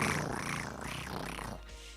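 A person imitates a cat's purr with a low, steady, rolling vocal vibration, held close and fairly soft for about two seconds without words.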